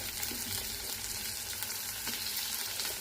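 Tomato frying in a pan while cooking a traditional saag curry, a steady close sizzle running throughout with no talk.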